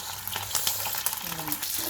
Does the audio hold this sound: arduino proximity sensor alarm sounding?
no